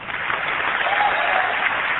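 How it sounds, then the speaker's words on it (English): An audience at Macworld 1999 claps steadily for a couple of seconds, a dense, even wash of applause in a large hall, sounding slightly muffled and band-limited. "Everybody that liked number 1 the best, please clap."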